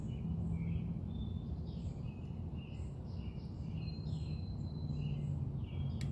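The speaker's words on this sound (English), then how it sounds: "It's the sounds of the birds." Morning birds chirp and twitter near a home, scattered high calls over a steady low background hum, fairly quiet and without voices.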